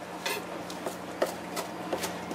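A knife chopping cilantro on a board, several sharp, fairly faint chopping taps spaced irregularly over a low background hum, with no voice.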